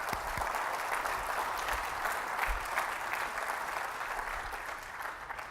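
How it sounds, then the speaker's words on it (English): Conference audience at a technology event in New York applauding an engineering team, a steady wash of clapping from many hands throughout, moderately loud and even, with no talking over it. "Please join me in giving a round of applause to the great engineering team"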